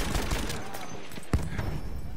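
Gunfire from the Battlefield 1 video game, set in the Gallipoli beach assault at Cape Helles, comes as a few sharp shots and one louder blast over a dense battle din, with voices talking faintly.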